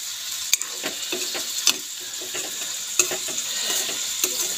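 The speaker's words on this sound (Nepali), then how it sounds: "अब मेरो बेलुकाको सब्जी पाक्दैछ" Vegetables for a home-cooked evening meal fry in a pan while being stirred, with a soft continuous sizzle broken by sharp scraping and clinking strokes of the utensil at irregular intervals.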